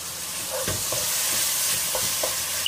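Soy sauce and hot chili sauce being stirred in a sizzling hot pan, a steady frying hiss with several soft scraping strokes of the utensil, close up and with no talking.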